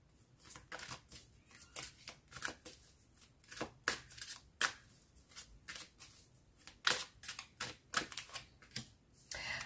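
Tarot cards are shuffled for a reading, giving a steady run of crisp, papery riffles and slaps in quick irregular bursts, close and fairly quiet, with no talking.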